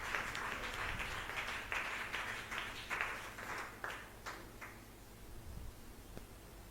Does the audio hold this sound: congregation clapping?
yes